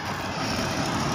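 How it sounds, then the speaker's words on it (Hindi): A jeep passing close by on a dusty road, giving a steady, loud broadband rumble of engine and tyres that holds through the short moment with no voices. "इस जीप को पार नहीं दीजिए यार, बड़ी धूला उड़ा रहा है"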